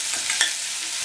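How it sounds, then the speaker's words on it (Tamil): Soft sizzling of onions sautéing in a pan for tomato kootu, with a brief stir or scrape in the middle, close and steady, no voices. "வெங்காயம் டிரான்ஸ்பரண்ட்டாக வர வரைக்கும் வதங்கட்டும்."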